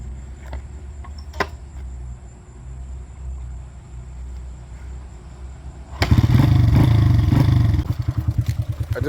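A 1995 Honda XR80 dirt bike engine catches and starts at about six seconds, after quiet idle-level background, then runs loud and close with a rough, rapid putter and a few throttle blips near the end.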